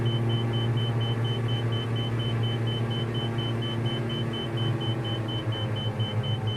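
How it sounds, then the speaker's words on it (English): A car's warning tone beeps in a regular, evenly spaced series over the steady low rumble of the moving vehicle, with no speech. "Why is it beeping at me?"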